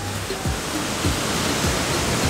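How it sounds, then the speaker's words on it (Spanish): Heavy water crashing down at the Tulimán waterfall in Puebla, a dense, loud, unbroken roar of falling water with spray, close by and filling the whole moment without any voices. "Así como cae esta agua aquí en Cascadas Tulimán."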